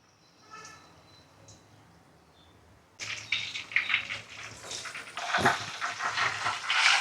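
Oil crackles and sizzles as KFC-style chicken goes in to deep fry, quiet at first and then a sudden loud, bubbling hiss that keeps going.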